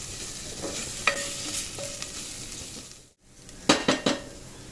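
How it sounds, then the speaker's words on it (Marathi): Chilli powder and asafoetida fry in hot oil for a gavar batata bhaji, giving a soft sizzle under spoon scrapes and light metallic clinks, with a brief quiet gap before a few sharper stirring knocks close by. "हिंग भरपूर टाका आणि आपण चांगलं तिखट एकदम भाजून घेऊ व्यवस्थित"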